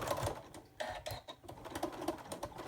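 A sewing machine stitches a Santa pot holder in short, quick bursts of clattering needle strokes with brief pauses between them, close and fairly faint.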